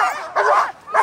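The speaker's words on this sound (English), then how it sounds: "You big old happy dog." An excited sled dog at the Iditarod race start gives two or three close, loud, high yipping barks with a whiny edge, in quick succession.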